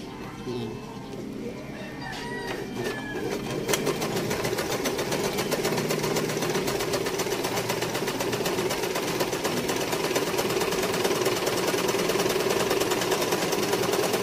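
An OPTI500 Merret sewing machine starts up and runs at speed, a rapid, even mechanical chatter close by. A voice speaks over the start of the stitching.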